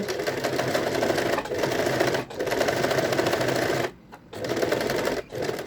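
A sewing machine stitches a second seam line a few millimetres beside the first, running in a loud, close, steady rapid chatter with a couple of short pauses.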